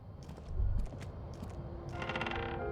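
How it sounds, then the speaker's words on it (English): In the video game Disco Elysium, wooden floorboards in a shack creak under footsteps, faint irregular creaks and groans with soft steps. "The floorboards creak under your step."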